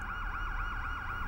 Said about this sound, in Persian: آمبولانس برای چی اومده؟